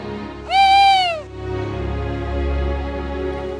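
Owl giving one clear, loud hoot lasting under a second over a steady low hum, with no other calls following.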